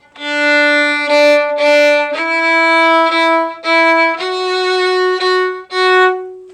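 A fiddle plays a steady sequence of sustained notes in a bowing pattern, each bow stroke clear and close, stepping gradually higher with brief breaks between strokes.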